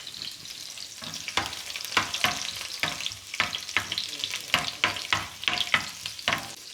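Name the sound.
green chilli frying in a pan for tomato chutney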